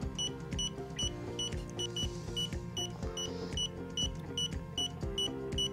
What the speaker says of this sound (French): j'ai activé les bips